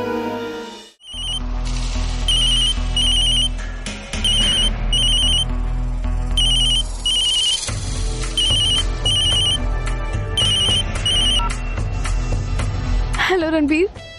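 A phone ringtone plays loudly in a repeating electronic melody, its chirping tones cycling steadily for well over ten seconds over a backing beat, with a brief dip near the start and a rising sweep at the end.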